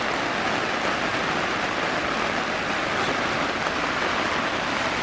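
Steady rain falls around a moored boat overnighting at Ter Oele, a dense, even hiss of drops that stays close and constant without letting up, with no voices over it.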